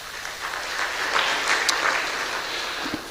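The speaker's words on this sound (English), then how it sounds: "can you give him a little round of applause for that effort?" At a media awards ceremony, an audience gives a sustained round of applause, dense clapping swelling slightly in the middle and carrying on steadily throughout.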